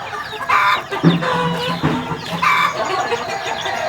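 Several chickens cluck and squawk close by in short, repeated bursts, with no talking.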